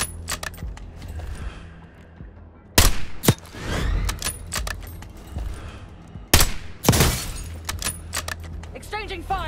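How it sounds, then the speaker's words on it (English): Loud, sharp gunshots crack out in Call of Duty Black Ops 6 during a firefight near a village camp, with two big bursts separated by quieter stretches, metallic clinks and voices speaking amid the action. "Exchanging fire!"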